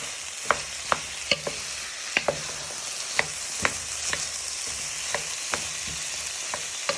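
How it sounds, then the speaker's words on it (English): Steak pieces frying with onion and garlic in a pan for beef goulash: a continuous loud sizzle punctuated by sharp clacks of a spoon striking the pan at irregular intervals, no talking. "Now you want to add in your steak pieces into your onion and garlic so they get a nice coat into your onions and garlic."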